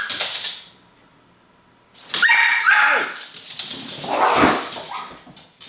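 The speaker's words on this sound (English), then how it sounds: "we had like the dog's going nuts here. Oh, we saw a cat." An excited dog barks in agitated bursts at a cat, with yips and whimpers mixed in, then a quiet pause before more loud, close barking with some talk in the background.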